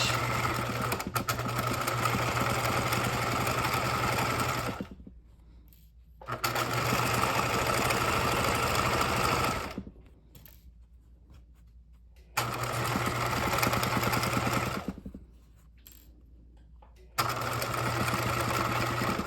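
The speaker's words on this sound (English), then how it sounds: "I'm sewing at a 1/4 inch into the bias binding" Sewing machine stitching a 1/4 inch seam along bias binding for a backpack, running in three steady bursts with short pauses between, backstitching at the ends; close and loud, no talking.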